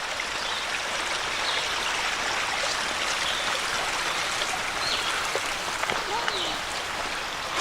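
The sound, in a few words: stream flowing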